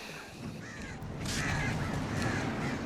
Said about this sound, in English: Those birds aren't dead though.